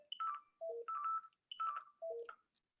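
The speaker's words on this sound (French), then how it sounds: "mon téléphone ne veut pas s'arrêter." A mobile phone rings with a repeating electronic melody, two identical phrases of stepped tones with a short gap between them, fairly faint and heard alone.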